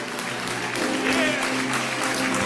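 A church congregation claps during a service, a steady wash of many hands at moderate distance with voices rising over it.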